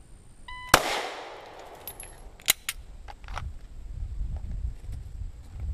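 A shot-timer beep is followed a fraction of a second later by a sharp report from a handgun during a timed drill, and a second crisp crack comes about two seconds later against a quiet room.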